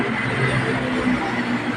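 BTS Silom Line skytrain at Saphan Taksin station platform 3 in Bangkok, a steady close rumble and hum of the train moving alongside the platform, continuous and fairly loud with no talk.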